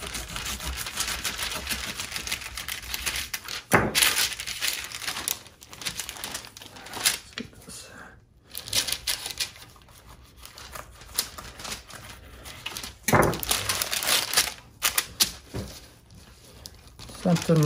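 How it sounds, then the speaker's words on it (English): A sharp knife trims a piece of meat in short bursts of scraping, tapping cuts, uneven in rhythm, set against a person talking at close range. "So we're just coming in with a good sharp knife, and we're just trimming this down."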